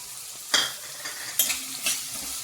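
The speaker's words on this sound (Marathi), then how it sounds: "मिरची व्यवस्थित करपल्यानंतर कांदा घालून घ्यायचा" Onion going into hot oil with peanuts and green chilli for upma, stirred in a pan: three bursts of loud sizzling at each addition or stir, fading to a steady soft fry between.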